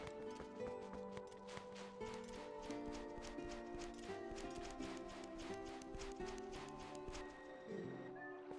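Horse hooves gallop in The Legend of Zelda: Twilight Princess HD, a quick, steady clip-clop of taps running under continuous music at a low level.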